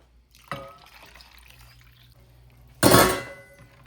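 Water is splashed into a pot of kadhi in two short pours, the second louder and fuller, with quiet bubbling in between.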